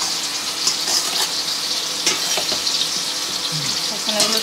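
Soybean chunks coated in turmeric and salt fry in oil with a dense, continuous sizzle, close and fairly loud, with faint stirring knocks now and then.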